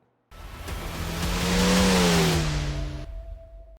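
A BMW M2 race car engine in the iRacing simulation at Mosport revs up loudly from silence, climbing in pitch and holding a steady howl before cutting off abruptly near the end.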